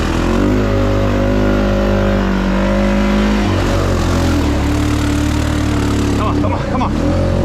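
A lifted Honda Foreman 500 ATV climbs a steep hill with a loud, close, continuous engine drone that shifts pitch midway as the throttle changes.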